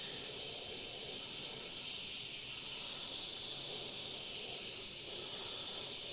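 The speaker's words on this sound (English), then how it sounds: "And this time I'm going to spray transparent black," Airbrush spraying transparent black paint over a mask while working freehand on a Frankenstein design: a steady, continuous airy hiss runs unbroken for the whole stretch at an even level, with no talking.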